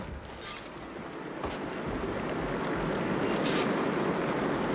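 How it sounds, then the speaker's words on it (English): Steady rush of water pouring into a room in Horizon Forbidden West, a continuous broadband wash that swells slightly louder toward the end, with brief splashy bursts and no talk. "I can hear water in the room again"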